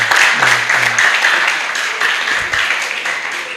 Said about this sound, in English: Please, can you put a round of applause for yourselves?